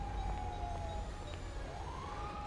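A faint wailing police siren in the video game GTA, rising and falling in pitch, heard at a distance over a low rumbling engine.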